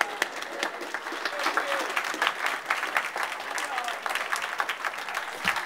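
Wedding guests applaud after a best man speech, a steady close round of clapping from a crowd that holds throughout, with a voice heard briefly.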